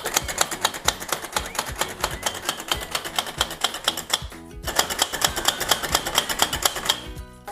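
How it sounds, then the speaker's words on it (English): A hand-operated food chopper dices pecans for oat energy bars, its blade hitting in rapid, steady clicking strokes. A brief pause breaks the run, then the chopping resumes with no talk. "chopped, so I'm going to use my fancy chopper"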